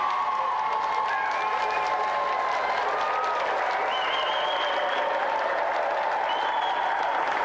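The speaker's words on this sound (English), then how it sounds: "Another round of applause for our special guest," Studio audience on a video games TV show applauds guest Kathy Dennis, a steady, dense round of clapping with some cheering that holds at an even level throughout.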